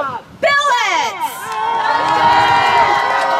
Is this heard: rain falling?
no